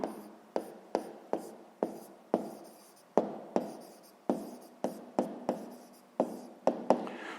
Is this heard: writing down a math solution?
yes